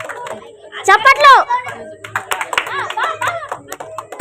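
Hands clap at a New Year's Eve group party with dance and games, the claps mixed among excited voices and children's shrieks and chatter.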